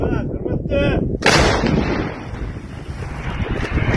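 A single loud artillery shot booms out during a funeral in Sumy, then a rolling rumble trails off while wind buffets the microphone.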